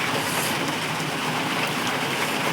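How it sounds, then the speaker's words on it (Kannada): Heavy rain pours in a dense, steady, loud hiss without a break, caught outdoors at night on a roadside during a bike trip with a puncture. "ನೀ ಜೋರು ಐತೆ ಮಳೆ, ದೊಡ್ಡ ದೊಡ್ಡ ಹನಿ ಕಾಣತಿರ್ಬೇಕು ನಿಮಗೆ ಗಾಡಿ ಲೈಟ್ಸ್ದಾಗ."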